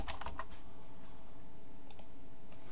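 An email address is typed on a computer keyboard: a quick cluster of close key clicks at the start, a brief pause, then a few more taps near the end, faint and without talk.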